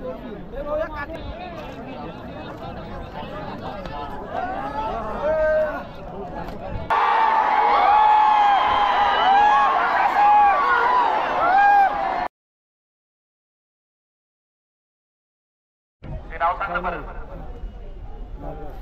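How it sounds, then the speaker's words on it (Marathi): Crowd at the Hind Kesari bullock-race ground in Pedgaon, a dense babble of voices and shouts that swells loud, cuts out to silence for several seconds, then returns. "गर्दी बघा किती आहे।"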